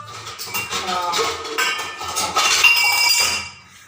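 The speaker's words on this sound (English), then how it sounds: "I'll dump this green gram into the cooker." Dry green gram is poured into a pressure cooker, a dense rattling patter of small beans striking metal, building and sustained before tapering off, close and fairly loud.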